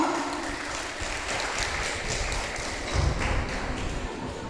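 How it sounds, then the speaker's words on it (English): Applause from an audience at a school closing meeting, a busy patter of many hands clapping close by, with a few louder taps and a low thump partway through. "Give applause."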